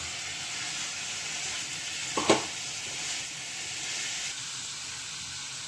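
Peppercorns sautéing in hot oil give a steady, soft sizzle and hiss throughout, with a brief louder crackle and spatter partway through before settling back to the even frying sound.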